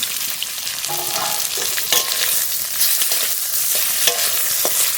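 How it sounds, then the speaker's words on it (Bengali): Garlic and pre-fried fish sizzle in a pan with hot oil, a continuous crackling fry broken by occasional utensil scrapes and clicks, close and fairly loud. "রসুনটা একটু ভাজা ভাজা করে নিয়েছি ভেজে রাখা পলই মাছ দিয়ে দেবো"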